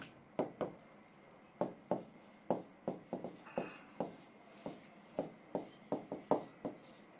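Pen strokes on paper come in quick irregular bursts of short scratchy taps and scribbles, close and clear, with no voices over them.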